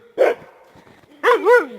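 A sled dog gives two short barks close by, the second a doubled, rising-and-falling yelp, with a quiet gap between them.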